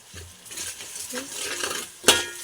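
Spices, salt and coriander powder are stirred in a pan for chicken dum biryani, with soft scraping, a gentle sizzle and a sharp metallic clink of the spoon near the end.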